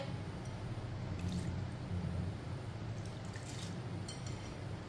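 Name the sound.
lentils being washed in water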